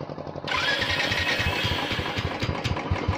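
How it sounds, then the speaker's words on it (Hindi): A Royal Enfield Bullet motorcycle engine catches after a brief quiet start and settles into a loud, close, chugging idle with a steady low thump. "तो ये मेरी गाड़ी स्टार्ट हो गई"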